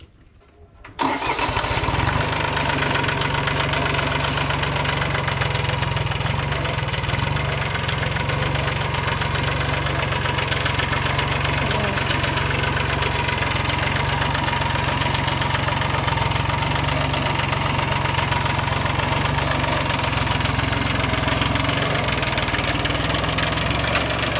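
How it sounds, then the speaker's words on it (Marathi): A tractor engine starts up, then runs at a steady loud idle with a throbbing, knocking rumble that holds unchanged for over twenty seconds, with no talk. "आपण ट्रॅक्टरची पण सफर करूया थोडी बागामध्ये चला"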